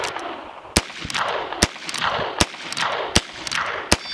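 Gunshots from a Heritage Rough Rider Wingman revolver at a range, six sharp close reports fired at a steady pace about three-quarters of a second apart, each trailed by a brief echo.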